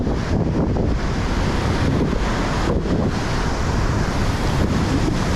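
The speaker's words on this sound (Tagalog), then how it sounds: "Na yung alon, yung alon, nagagalit yung alon, nagalit na" Ocean waves surge and wash continuously alongside heavy wind buffeting the microphone on a boat during ultralight sea fishing in rough water, a loud, steady roar with no talk.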